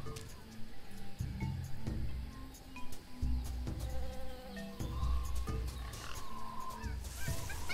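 Bees buzzing amid jungle ambience in the adventure game Tales of Monkey Island, a faint droning hum woven with bird honks and calls, pulsing in uneven bursts under a busy background.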